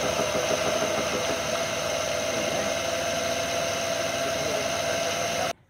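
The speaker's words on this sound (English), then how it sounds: "you'll hear it'll be a bit ticky and knocky until it builds the oil pressure back up" Car engine idling right after an oil change, with the oil just drained and no lubrication yet in the top end, running at a steady close drone before cutting off near the end.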